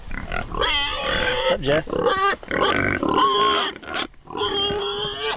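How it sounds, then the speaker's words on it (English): Pigs grunt and squeal on a family farm that also raises a steer and sheep, with loud, overlapping animal calls running almost continuously beside a nearby person talking. "We love raising pigs"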